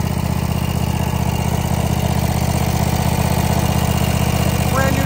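The engine of a Cub Cadet RZT 50-inch zero-turn mower fitted with a full bagger system runs at a steady idle, a loud, close, even drone with a regular pulsing throb and no break.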